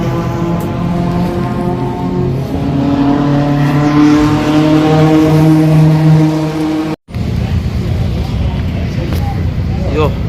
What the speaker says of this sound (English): look at that full R8 GT3 race car